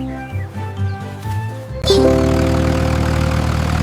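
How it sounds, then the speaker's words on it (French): A small tractor engine fires up midway and settles into a loud, steady rumbling roar close by, after a quieter stretch with faint tonal sounds. "Le rugissement du petit tracteur était fort."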